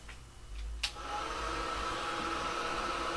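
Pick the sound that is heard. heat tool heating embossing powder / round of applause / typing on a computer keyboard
heat tool heating embossing powder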